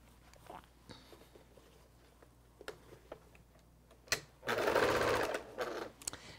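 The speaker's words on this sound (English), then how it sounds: "Now we just have 2 more seams to sew together and our block is done." A sewing machine stitches a quilt block seam, with light ticks and handling noises at first, then a loud, close burst of steady motor whirring lasting about a second and a half, followed by fainter clicks.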